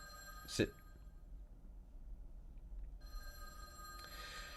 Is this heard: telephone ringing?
yes